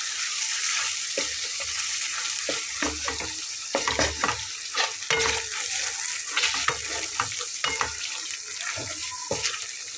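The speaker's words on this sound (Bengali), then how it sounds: "দেখুন ঠিক এইভাবে আমি এর ভেতরে এখন ডিমটা দিয়ে দিচ্ছি, সিদ্ধ করে রাখা আগে থেকে" Boiled eggs dropped into spice masala frying in a pan, giving a bright continuous sizzle with several soft thuds and stirring scrapes, up close and fairly loud throughout.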